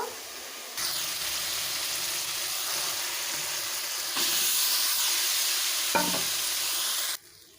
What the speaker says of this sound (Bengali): ডালিয়ার ডালটাকে ভালোভাবে একটু কষে নেব মশলার সঙ্গে